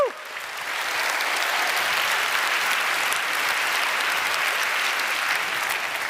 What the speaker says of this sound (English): Let's have a warm round of applause for the Munk family and the late and great Peter Munk.